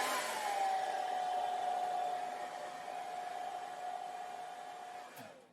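A hair dryer blows a steady, fairly quiet whirring stream of air while hair is being styled, running continuously for several seconds before a brief click near the end.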